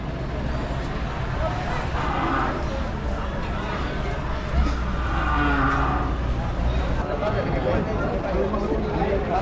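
Cattle at a cow auction in San Joaquin, Philippines give low moos amid a busy crowd, with people talking and some road traffic noise mixed in throughout.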